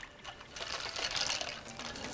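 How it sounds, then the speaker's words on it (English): French fries are put into an ice water bath, making a soft, close splashing and trickling of water that swells in the middle and then settles. "you want to take your French fries and actually put them in an ice water bath"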